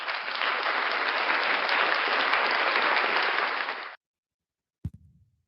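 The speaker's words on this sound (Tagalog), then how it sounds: "Dinig ba yung palakpak na dyan?" Dense, loud applause from a crowd during a lively game show, held steady for about four seconds before cutting off abruptly, followed by a single sharp knock and a short fading rumble.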